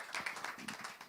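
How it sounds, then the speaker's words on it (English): A small audience clapping at a live music event in Malaysia, distinct, fairly faint claps in an uneven patter from a modest crowd. "You can give a big round of applause"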